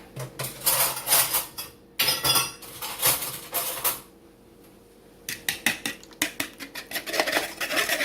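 A fork clatters and clinks against a bowl while a cinnamon, vanilla and egg mixture for French toast is whisked, in loud rapid bursts separated by a brief quiet pause.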